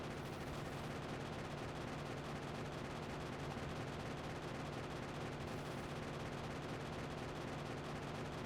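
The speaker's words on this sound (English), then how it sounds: "I love the gun sounds." Dense, continuous rattling gunfire from turrets in the game Factorio, a steady wall of rapid overlapping shots heard faintly at a distance with no talking.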